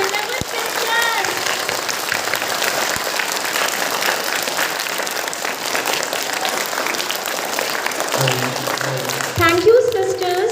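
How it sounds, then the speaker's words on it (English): A children's audience claps steadily and loudly after a prayer dance at a school Children's Day celebration, a dense continuous patter with voices mixed in and an adult speaking near the end. "give them a huge round of applause for our beloved sisters"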